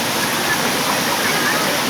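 Dense, steady roar of Tat Hai waterfall in Khao Phra Wihan National Park fills the scene, a constant hissing rush with no breaks, close and loud.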